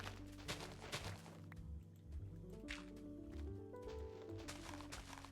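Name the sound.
flowing water in Minecraft video game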